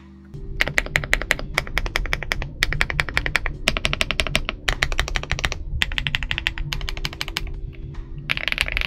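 Rapid typing on an iLovBee B87 gasket-mounted TKL mechanical keyboard with a deep, full clack, keystrokes coming in quick dense bursts with short pauses between, close and clear with no talking.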